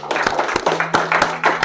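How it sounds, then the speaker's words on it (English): A small group claps in uneven bursts, close and fairly loud, with short pauses between rounds of applause. "So give yourselves a round of applause."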